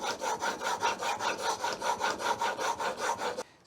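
A steel chisel is pushed back and forth across a bench sharpening stone in a steady rhythm of about a dozen close, gritty rasping strokes, with no talk.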